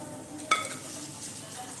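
Whole spices, a bay leaf and red chili drop into hot oil in a pan for matar paneer, giving a single soft clatter followed by a steady low sizzle.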